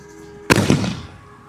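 A green firecracker from Sivakasi goes off with one sharp, loud crack, followed by a crackling burst that fizzles and fades over about a second.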